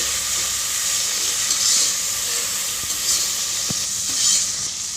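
Green chillies and ginger garlic paste sizzle steadily in a hot pan for mutton biryani, a close, constant frying hiss with occasional soft clicks of stirring.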